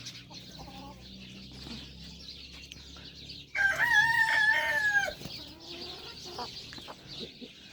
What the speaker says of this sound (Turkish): Burada da yarkalar işte arkadaşlar.